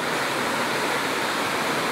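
The Antônio Monteiro waterfall in Pocinhos do Rio pours in a steady, broadband rush of falling water, close and continuous with no voices over it.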